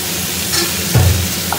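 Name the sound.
papaya pieces frying in a pan with spices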